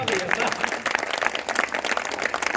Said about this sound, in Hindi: तालियां एक बार बजा दीजिए।